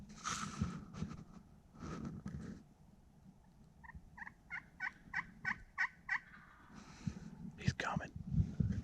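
A wild turkey gobbles in a windy Arkansas woodland, a run of about eight quick rhythmic pulses at moderate distance, with people whispering softly before and after.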